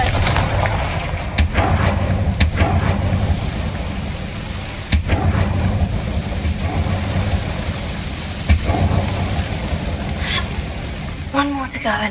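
Fire spell blasts from Confringo in Hogwarts Legacy land as sharp explosive cracks every few seconds over a constant loud rumbling game soundscape.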